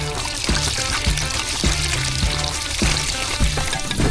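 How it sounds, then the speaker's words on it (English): Rusty water gushes steadily out of a Nissan Patrol's cooling system during a flush. The loud, close rush of liquid throbs with a regular glugging pulse about every half second. "Flush the cooling system."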